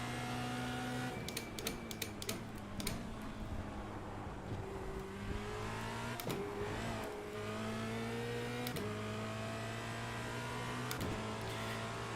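A Formula Renault race car laps in the iRacing sim, its engine droning steadily, climbing through the revs and dropping sharply at each gear change, with brief clicks scattered through the run.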